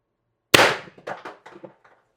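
An X-68 Storm Trooper paintball marker fires a single sharp shot on preheated CO2 from a drained magazine, a loud crack followed by a short rattling echo and clatter fading over about a second and a half.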